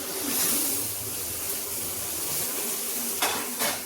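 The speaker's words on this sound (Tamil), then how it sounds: "இந்த சேர்த்துல நம்ம முருங்கைக்காய், பச்சை மிளகாய், நூக்கல் எல்லாத்தையும் போட்டு வதக்கலாம்." Drumstick pieces, green chili and knol-khol sautéing in a pan, giving a steady soft sizzle with faint scraping and stirring, then two brief sharp clinks near the end.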